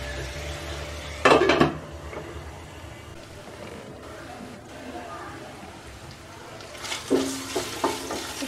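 Chicken cooking in a pan with chilli sauce for chicken fried rice: a steady sizzle underneath, with two bursts of utensil-on-pan stirring and scraping, one early and a longer run near the end.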